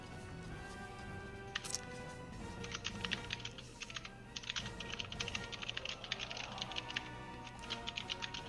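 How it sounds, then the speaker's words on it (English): Rapid keyboard typing clatters in dense bursts of keystrokes at a commentary desk before a Heroes of the Storm league match, with steady background hum and no talk. "What you're hearing in the background there, ladies and gentlemen, is the difference between rage typing and just efficient, high-speed typing"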